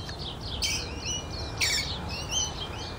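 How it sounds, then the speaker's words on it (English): Green parrots feeding on apples in Tasmania in winter give sharp, repeated chirping calls in scattered bursts over a soft, steady outdoor background. "Green parrots eating apples in Tasmania in winter."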